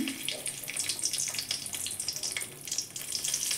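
Bay leaf frying in hot oil in a wok while cooking a spicy bhola fish curry, giving a steady close sizzle with bright crackle and no voices.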